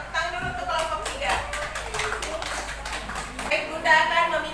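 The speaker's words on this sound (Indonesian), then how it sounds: "Tepuk dulu untuk kelompok 3." Classroom children clapping for a winning group, a patter of individual claps rising and falling, with a voice speaking over the claps.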